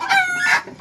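Free-range village chickens in a rural poultry yard: a rooster crows loudly and close in one short burst, its harsh call cut off quickly.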